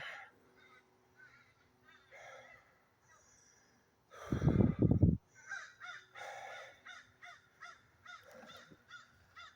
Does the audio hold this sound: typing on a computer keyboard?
no